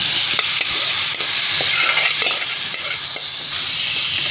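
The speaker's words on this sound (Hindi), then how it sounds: "जब प्याज हमारा इस तरह ब्राउन हो तो हम उसमें चिकन मैरिनेट किया हुआ डाल देंगे" Marinated chicken fries with browned onions for shahi murg masala, giving a loud, close, continuous sizzle. A spoon scrapes and clinks against the pan now and then while the mixture is stirred, with no talking.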